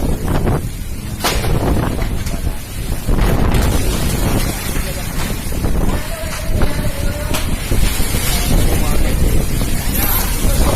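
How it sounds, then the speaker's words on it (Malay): Strong gusting wind roars over the microphone in Banda Aceh, a loud, constant rush with buffeting bursts throughout, while people speak now and then beneath it. "Kondisi di Banda Aceh. Angin 3 arah."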